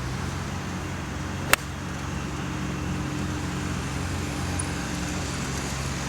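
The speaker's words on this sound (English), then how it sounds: "It's actually doing my head in now with that tractor thing." A steady low tractor engine drone hums nearby, about 200 yards away, on a golf course throughout, with one sharp click partway through.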